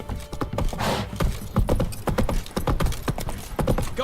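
A horse gallops in The Witcher 3, its hooves beating a quick, steady clip-clop rhythm close by, with faint game ambience underneath.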